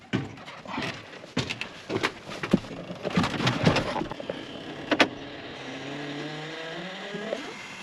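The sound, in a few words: tractor engine starting up after a month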